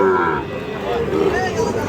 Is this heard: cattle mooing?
yes